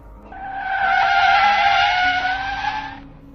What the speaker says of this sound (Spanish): Giré el volante de golpe y el auto derrapó